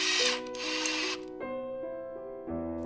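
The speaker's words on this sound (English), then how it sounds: "And run the bolts down evenly until they just start to get tight." Cordless power driver running down clutch pressure plate bolts on a Yamaha FZ09 motorcycle, a close whirring motor with a rising pitch that pauses and restarts in several short bursts.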